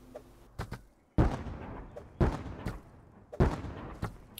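Explosive charges blowing open a loot box in the survival game Rust during an online raid, four sharp booming blasts spaced about a second apart, each with a thudding low rumble that trails off, loud and close with no talk over them.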